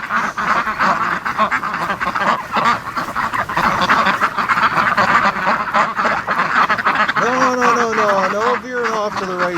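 Muscovy ducks near a lake quack and hiss in a busy, close chorus while a person talks over them, with a few drawn-out honking calls near the end.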